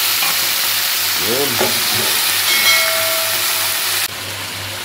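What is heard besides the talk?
kangkong (water spinach) added to coconut milk stew, stirring and sizzling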